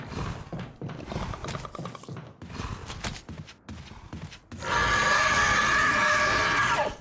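A creature in Resident Evil lets out a loud, sustained shrill scream near the end, after a stretch of thumping, clattering footsteps and knocks.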